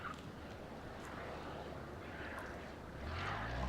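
Cessna light aircraft on a touch and go at Lelystad Airport, a steady distant engine drone that swells and grows louder near the end against broad outdoor rumble.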